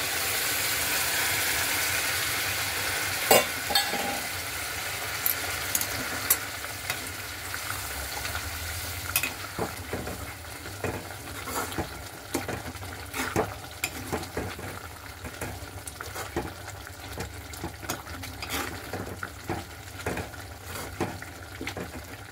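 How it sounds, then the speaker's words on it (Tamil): Peas stirred into a frying masala for pattani kurma, a loud sizzle at first that settles into a softer steady fry, broken by repeated clinks and scrapes of a spoon against the pan. "இப்போ நான் இந்த மசாலாவில் இதை மிக்ஸ் பண்ணுறேன்"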